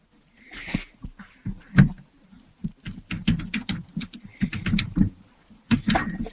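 Typing on a computer keyboard, quick irregular bursts of close, crisp key clicks with short pauses between runs, no talking.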